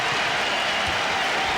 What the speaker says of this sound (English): The applause for Vern Fleming as he sits down.